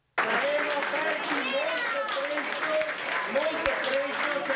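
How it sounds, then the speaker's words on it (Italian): Guests at La Scacchiera, an agriturismo restaurant near Padua, applaud in a steady, dense burst lasting several seconds, with voices talking over the clapping. "Un altro applauso."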